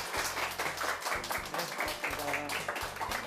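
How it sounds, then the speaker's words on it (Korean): An audience at a Korean lecture show applauds to welcome a lecturer onstage, a dense burst of clapping mixed with a host's voice and background music throughout. "박수로 한번 모셔볼게요"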